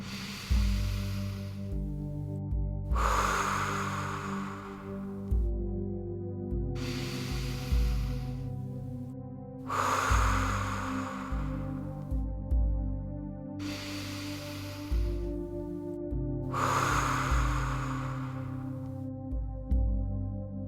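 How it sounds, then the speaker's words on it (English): Slow deep breathing with long exhales through the mouth during a relaxation exercise, about six soft breathy gusts at steady intervals over a sustained low background tone. "Take another couple of deep breaths."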